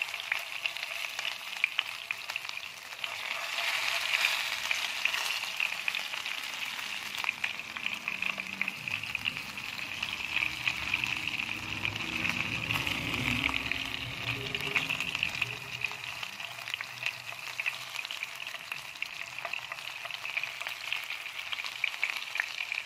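Eggplant coated in masala fries steadily in oil in a village-style kitchen, a continuous close hiss and bubbling sizzle with faint stirring movements and no talk.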